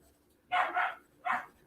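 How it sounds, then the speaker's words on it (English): A dog barks indoors, sharp and fairly close: a quick double bark, then a single bark after a short pause. "I see that my dog wants to bark now."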